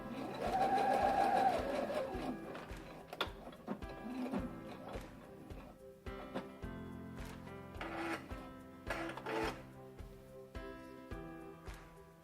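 A sewing machine stitches fabric gathers in short bursts of rapid mechanical chatter, with pauses and light handling noises between runs, close and fairly quiet with no talk.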